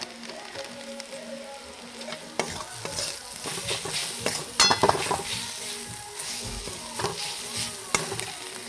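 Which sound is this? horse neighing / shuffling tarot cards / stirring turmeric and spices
stirring turmeric and spices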